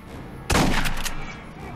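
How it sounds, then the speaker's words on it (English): A single loud shotgun blast in the video game Aliens: Colonial Marines cracks out suddenly and then fades through a rumbling tail. "I shotgun you!"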